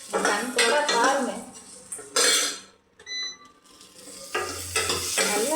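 Ginger garlic paste sautéed and stirred in a pan on the stove: a steady sizzle with spatula scrapes and metallic clatter against the pan, loud and close, plus a brief cough.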